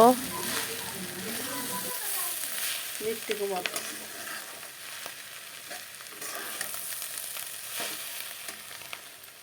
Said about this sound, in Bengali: আলুগুলো একদম লাল লাল করে ভেজে নামিয়ে নেব